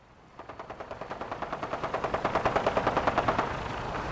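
Rapid automatic gunfire in the Fallout 4 video game, a steady sustained burst of evenly spaced shots that grows slightly louder before stopping abruptly, with no talk over it.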